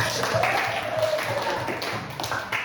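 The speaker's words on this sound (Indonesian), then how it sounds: "tepuk tangan untuk semuanya" A classroom of students applauds, a dense burst of clapping that fills the clip and slowly fades, with some faint voices mixed in.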